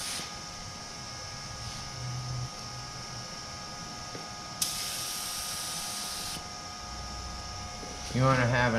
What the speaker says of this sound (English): we will move over here to test spraying